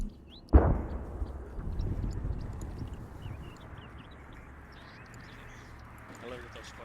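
A sharp, loud gunshot blast near the start of an Arma 3 game battle, followed by a rumbling tail and steady low background noise under faint talk.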